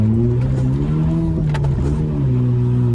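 A turbocharged 2011 Honda Accord with a budget turbo kit pulls hard, its engine droning with rising harmonics, a brief pause and pitch drop at a gear change, then the engine pulls again, loud and close.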